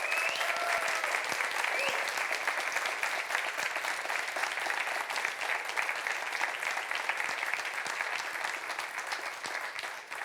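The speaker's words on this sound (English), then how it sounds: "The loudest round of applause of your entire lives on the count of 3." A conference audience at a talk on yacht charter sales gives a loud, dense round of applause that runs unbroken for about ten seconds and tapers slightly at the end.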